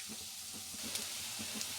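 Crispy leftover rice kababs sizzle steadily in hot oil, a continuous close frying hiss with faint bubbling pops and no voices.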